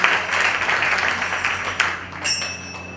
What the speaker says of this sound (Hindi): एक बार अपने लिए तालियां बजाएं